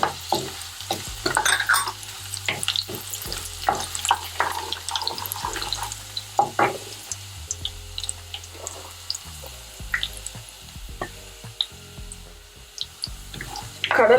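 Peanuts fry in a pan with curry leaves and garlic, giving quiet, irregular sizzling and crackling broken up by sharp scraping and stirring taps close by.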